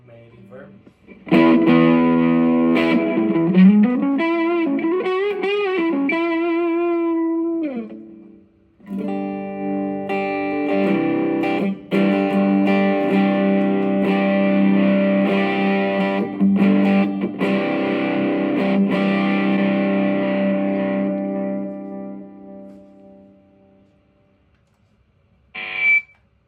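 Electric guitar fed through a reverb effect, strummed chords and a sliding bent note ringing out with long washy tails, loud and close, fading away near the end before a brief final strum.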